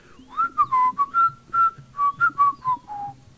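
Someone whistles a cheerful tune close by, a string of clear, bright notes rising and falling with short gaps between phrases.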